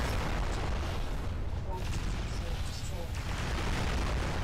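Base turrets firing in the video game MechWarrior Living Legends, a dense continuous roar of booming blasts and explosions filling the whole stretch, with players talking over the noise.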